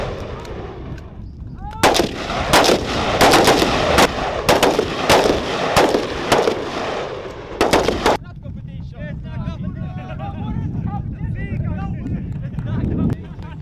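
Sharp, loud rifle shots crack out in quick, uneven volleys during a joint reflexive-fire training exercise on a range. The burst of gunfire ends abruptly, and quieter voices and outdoor noise carry on afterward.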